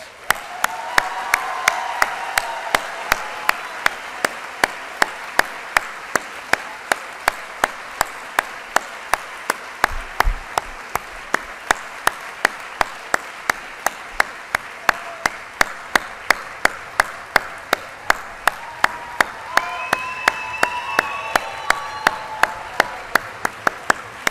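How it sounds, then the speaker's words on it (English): A graduation audience at a biomedical sciences ceremony claps in a big sustained round of applause, dense and even, with a few louder individual claps and faint cheers on top. "How about another big round of applause?"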